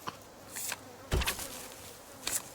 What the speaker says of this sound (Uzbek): Pashsha bosyapti mendan.